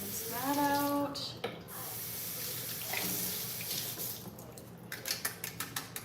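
Water running from a kitchen tap while something is rinsed out, a soft continuous stream with some clattering and splashing toward the end, along with a brief voice-like tone near the start.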